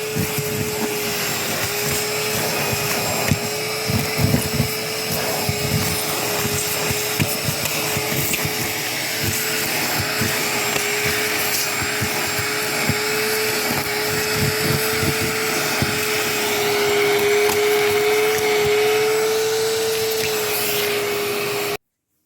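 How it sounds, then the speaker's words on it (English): A shop vac sucks loose houseplant soil out of a pot, giving a loud, steady motor drone with a high whine that holds for the whole stretch amid scattered rattles of grit. "This shop vac's going to be kind of loud."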